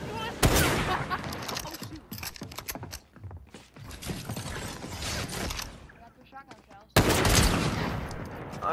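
Rapid shotgun blasts in a first-person shooter video game, loud bursts of gunfire with mechanical reload clicks between them and a heavy burst near the end, under stretches of quiet talk.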